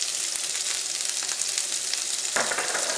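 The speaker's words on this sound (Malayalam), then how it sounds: "സവോളയും ഇഞ്ചിയും കറിവേപ്പിലയും ഉണക്കമുളകും ഇട്ടിട്ടൊന്ന് വഴറ്റിയെടുക്കുക." Onion, ginger, curry leaves and dried chilli sauté in hot oil in a pan, a loud, steady close sizzle with occasional stirring scrapes and no talk.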